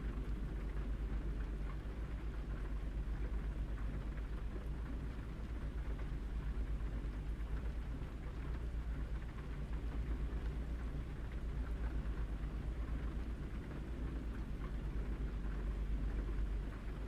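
Steady rain in American Truck Simulator makes an even, continuous hiss over a low engine rumble, unbroken and without talk.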